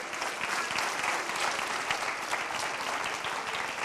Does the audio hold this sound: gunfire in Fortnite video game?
no